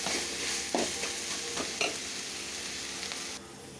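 Onions sautéing in a pan for a vegetable biryani, a steady close hiss of frying with a few soft stirring knocks, fairly quiet and with no voices.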